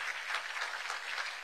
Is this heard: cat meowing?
no